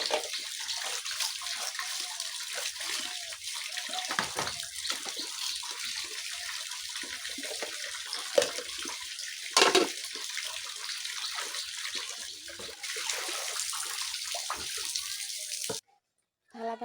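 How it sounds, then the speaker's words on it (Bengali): Dishes being washed under running water at a home sink, a steady broadband splash with intermittent clatter and knocks of crockery, ending abruptly in a brief near-silence. "থালাবাটি ধোয়ার কাজ শেষ।"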